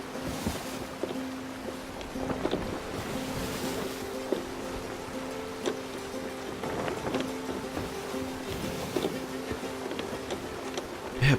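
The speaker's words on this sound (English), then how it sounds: "pretty good weather and waves right now" Ocean waves wash steadily around a sailing ship in the Sea of Thieves video game, a soft continuous sea wash with faint creaks and light knocks, no voices.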